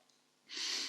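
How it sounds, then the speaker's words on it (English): A short, breathy blast of air, like someone blowing their nose, rising after a quiet moment and held for about half a second, close up. "Just blow my nose again, mate."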